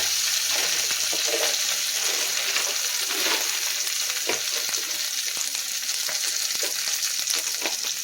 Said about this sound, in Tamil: நல்லா பொரிஞ்சுன்னு இருக்குது. உளுந்து வந்து நம்ம வந்து நல்லா ஒரு பொன்னிறமாக வரணும்.